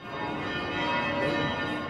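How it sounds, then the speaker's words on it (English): Great cathedral bells ring out across Europe, heard as a dense, sustained wash of overlapping bell tones with a broad rich hum and no clear individual strikes. "Throughout Europe, the bells of the great cathedrals tolled, from Vienna to Paris."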